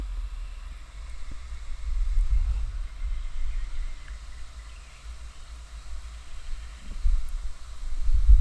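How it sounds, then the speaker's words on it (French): Low, rumbling wind buffeting a microphone, swelling and easing in gusts, with no voices present. "Ah, mais c'est le vent, je crois"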